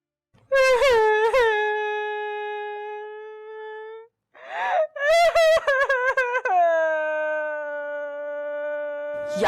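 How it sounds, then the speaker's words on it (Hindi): A woman cries and wails loudly in long, drawn-out sustained moans, broken by short sobbing gasps, near and alone with no other voices. "बाहर तलक तेरे रोने की आवाजें आ रही।"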